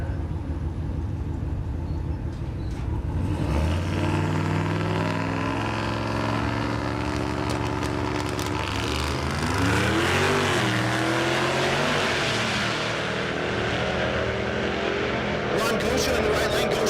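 Drag racing cars, a Ford Mustang and an International, launching at a Kansas dragstrip, engines roaring up in pitch through gear changes then fading, with an announcer talking over it.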